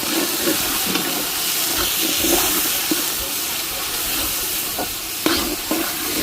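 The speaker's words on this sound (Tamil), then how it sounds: "நல்லா கிண்டிடுவோம் கிண்டிட்டு தக்காளி நல்லா வதங்கட்டும்" Tomatoes sautéing in a pan for chicken biryani, with steady sizzling and frying hiss throughout and several scraping stirs of a spoon against the pan, close and fairly loud, with no speech.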